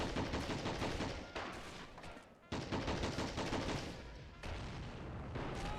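Dense gunfire and artillery roll on without pause in a WW1 real-time strategy game set in trench warfare at Belleau Wood, loud and close, with a brief lull midway.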